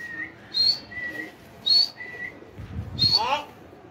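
A racing pigeon lands and then takes off again outdoors, with a few whistle-like tones, a soft call and a brief burst of fluttering wingbeats near the end.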